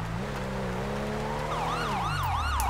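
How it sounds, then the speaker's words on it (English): An ambulance siren in GTA V wails with rising and falling sweeps that grow louder over a steady rumble of in-game road traffic, with no talking. "That's the ambulance."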